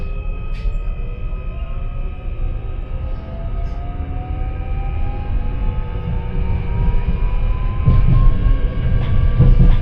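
A Merseyrail train pulls into Hoylake Station on the Wirral, its rumbling wheels and rising motor whine growing louder and heavier as it nears the platform, with steady rail noise throughout.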